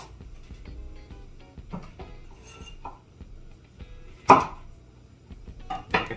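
A kitchen knife slices a carrot into half-moon pieces on a cutting board, soft regular taps with one sharper clack of the blade, close and quiet with no talking.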